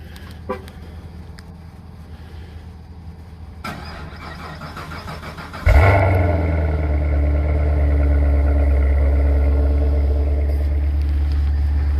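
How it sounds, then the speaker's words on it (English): A car's engine cold-starts with a sudden crank and catch, then settles into a loud, steady, close idle that drones on for several seconds. "He does a cold start in his videos."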